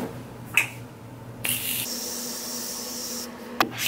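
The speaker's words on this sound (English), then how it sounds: "So I'm going to take the Morphe setting spray first." A quick spritz of Morphe setting spray, a soft hiss lasting under a second, set between faint clicks and handling noises in a quiet room.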